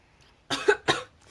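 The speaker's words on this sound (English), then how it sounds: "Not you coughing and dying." Two quick, harsh coughs close up, one right after the other, then silence.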